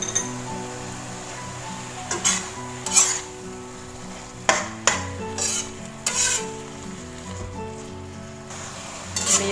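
Egg frying and being stirred in an oily pan for Indomie goreng with green vegetables, a soft steady sizzle broken by repeated scrapes and clinks of a utensil against the pan.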